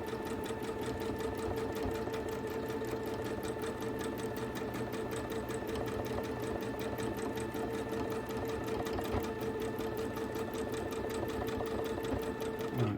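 A sewing machine stitches steadily across a storm-themed quilt, its needle hammering in a fast, even, continuous drone that runs loud and unbroken for the whole stretch.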